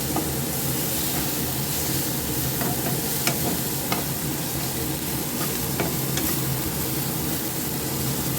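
Dried fish stir-fried in a pan with red chili gives a steady, close sizzle and frying hiss, with faint scrapes of stirring throughout and no talking.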